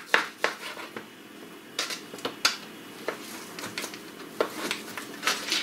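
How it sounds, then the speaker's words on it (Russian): A knife on a cutting board dicing chicken fillet into cubes, with sharp, irregular, moderately close taps and pauses between them and no talking. "Затем нарезаем куриное филе. Можно соломкой, можно кубиком. Я буду нарезать кубиком."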